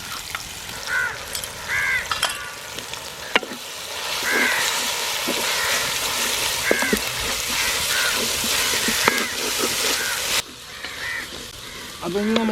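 Onion, chillies, curry leaves and ginger-garlic paste sizzle steadily in a pan for a Kerala-style chicken curry, a continuous close hiss with scattered stirring clicks, while birds caw faintly outside.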